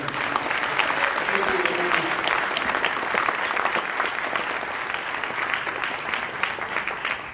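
A large audience at a family night gala applauds continuously, a thick, even roar of many clapping hands holding steady from start to finish with no break.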